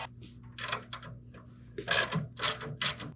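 A ratchet loosening 10 millimeter nuts on a burner assembly, with bursts of rapid clicking, then short pauses, growing louder toward the end.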